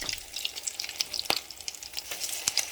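Salmon croquette patties made with flour and eggs sizzle in a frying pan. The frying crackles steadily, with a few sharp clicks as a patty is flipped, and no one speaks.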